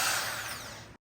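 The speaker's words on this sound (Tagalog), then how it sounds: "Yan yung pang-barena." An electric drill whines steadily at high pitch, slowly winding down and then cutting off abruptly.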